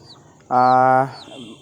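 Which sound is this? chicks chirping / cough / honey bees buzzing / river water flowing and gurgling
chicks chirping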